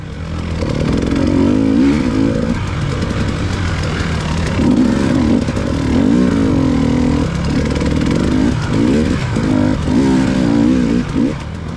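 A dirt bike on a hare scramble course fitted with a Starcross 6 rear tire, its engine loud and close, revving and bogging in repeated surges as it fights rough terrain.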